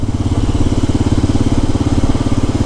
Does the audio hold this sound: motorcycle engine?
yes